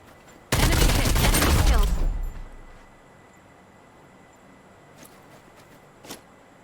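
A loud, dense burst of rapid automatic gunfire from a mech in the shooter Farlight 84, lasting about a second and a half before fading, followed by quiet with a couple of faint distant shots.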